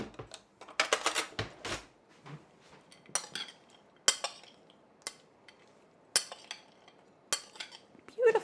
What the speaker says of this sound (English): And then let's stir this up.